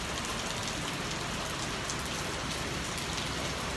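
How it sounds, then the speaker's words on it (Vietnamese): Heavy rain from a storm pours down steadily in Saigon, a dense, constant hiss of water striking surfaces that stays loud and unbroken throughout. "Trời mưa rất là lớn luôn."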